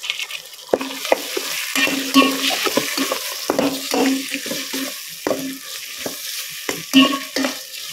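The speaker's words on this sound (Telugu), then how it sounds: "పుదీనా వచ్చేసి టమాటోస్ వేసేస్తాను మగ్గడానికి." Tomatoes and mint leaves cooking in hot oil for an egg curry, with a loud, close sizzle punctuated by repeated clattering stirs and scrapes of a spoon against the pan.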